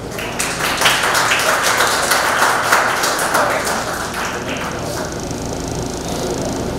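An audience at a research presentation event applauds to welcome a speaker; loud, dense clapping fills the first few seconds, then thins and fades toward the end.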